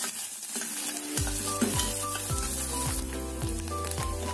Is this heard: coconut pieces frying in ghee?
yes